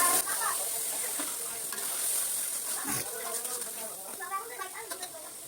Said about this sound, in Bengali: জল দিয়ে মশলাটা কষিয়ে নেব। টমেটোগুলো দিয়ে দিচ্ছি।